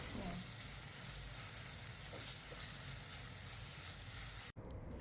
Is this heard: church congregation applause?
no